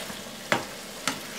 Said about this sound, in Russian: Обязательно нужно периодически помешивать печенку, чтобы она стала вот такой вот коричневенькой практически вся